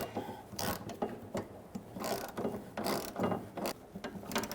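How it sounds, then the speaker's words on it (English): Ratchet with a 10mm socket tightening the fuel filler neck bracket bolt on a 2000-2007 Ford Taurus 3.0L V6, repeated bursts of rapid clicking in short, uneven strokes, close and clear with no talk. "we're going to put our bolt through the bracket and secure our filler neck using a 10mm socket"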